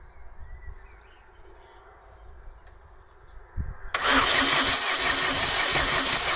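A Vauxhall Astra Mk3 1.6 LS saloon, unused since 2009, is cranked while checking for spark and fuel. Quiet shuffling comes first, then a loud, steady whirring crank starts abruptly and runs on without firing.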